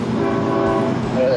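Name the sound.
train horn honking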